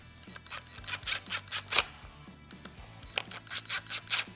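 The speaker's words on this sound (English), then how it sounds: "Next, we're just going to refasten this camera with the screws you took out." Screws fastening a backup camera onto a RAM or TRX tailgate are driven in a series of quick, evenly spaced ratcheting clicks and scrapes, pausing briefly before another run of turns.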